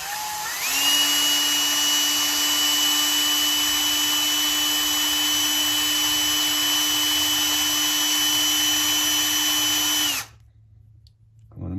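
A DeWalt drill with a 1/32 bit boring through resin parts, a loud, steady high-pitched motor whine held for about ten seconds, then cutting off abruptly to near quiet.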